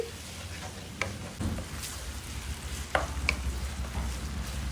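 Ground pork with salt, pepper, bay leaves and oyster sauce is stirred in a hot pan, sizzling continuously while a utensil scrapes and knocks against the pan in several sharp, close strokes.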